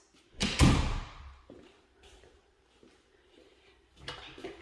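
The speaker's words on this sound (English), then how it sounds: "These are solid core doors." A solid core interior door in a house with wood floors closes with a loud thud near the start, followed by quieter room noise and a softer knock near the end.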